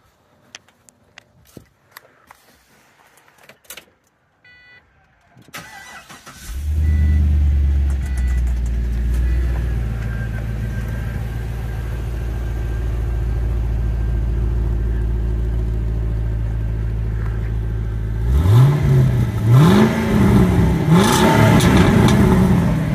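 A 2005 Pontiac GTO with a 6.0L V8 cranks and fires up, settling into a loud, steady rumbling idle, then revs rise and fall several times near the end after some faint handling noises at the start.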